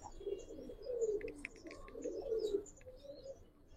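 Giribaz silver pigeon cooing up close in a low, rolling series of throaty coos that swell and fade over a few seconds, with faint chirps from other birds nearby.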